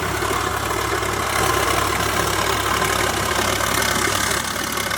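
A Sonalika 47Rx tractor engine runs in a muddy field with a loud, steady, dense drone that stays constant throughout and is close by, with no voices over it.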